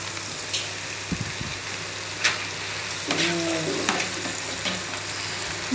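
Boiled macaroni being stirred into a sizzling vegetable egg masala in a pan, a steady moderate frying hiss with soft scraping stirs and occasional clinks.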